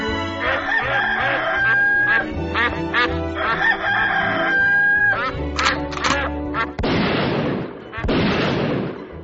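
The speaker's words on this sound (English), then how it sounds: "24 hours of infected chickens, ducks, and geese all being put out of their misery" Squawking sick chickens, ducks and geese being put down fill the scene: repeated quacks, clucks and a rooster-like crow overlapping densely, ending in two harsh noisy blasts.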